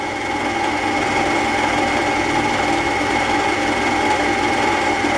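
Steady, loud whirring of a wood lathe spinning a wooden pen blank while sandpaper is pressed against it, a continuous hum with a faint rasp and no pauses, no voices.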